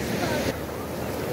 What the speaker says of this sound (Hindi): You see the wave, what a beautiful wave.